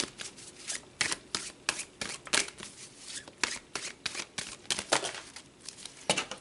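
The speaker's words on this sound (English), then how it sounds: "All right, let's pull some more tarot." Tarot cards are shuffled by hand in quick, crisp riffling bursts, a close, repeated papery flutter with short irregular pauses between strokes.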